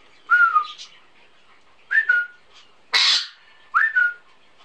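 An African grey parrot in its cage gives four loud, close whistles, rising slurred notes separated by short gaps, the third harsher and more shrill than the rest.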